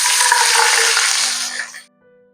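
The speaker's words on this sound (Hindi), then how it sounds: "इसमें डालेंगे 2 कप पानी" Two cups of water poured into a hot pot of fried onions for tarka rice make a loud sizzling rush that fades out after about two seconds.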